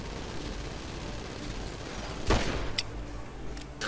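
Gunfire in Grand Theft Auto V over a constant background hiss: one sharp, loud bang cracks out midway, followed by a couple of fainter, quick reports.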